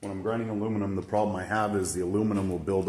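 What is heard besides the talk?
None of the usual background noises is heard.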